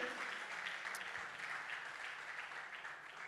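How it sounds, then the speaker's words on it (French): A ceremony audience applauds continuously, a steady wash of many hands clapping at moderate, somewhat distant level, without any voices. "j'aimerais qu'on applaudisse s'il vous plaît"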